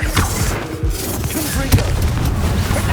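Spell blasts from Bombarda and Confringo in Hogwarts Legacy go off in a dense run of booming thumps, one sharp burst near the middle, under a continuous rumble of combat and game noise.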